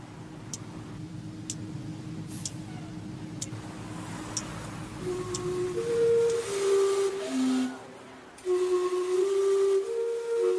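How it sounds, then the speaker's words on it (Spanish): Vancouver's steam clock, running since 1870, sounds its whistles in a rising-and-falling tune of sustained tones over steady street traffic noise, with sharp ticks earlier on. "Desde 1870, su silbido recuerda cada cuarto de hora el imparable paso del tiempo."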